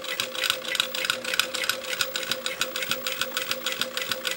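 An industrial Juki DDL 9000 sewing machine stitches at slow speed, giving an even, fast mechanical ticking pulse over a low motor hum, close and steady with no voices.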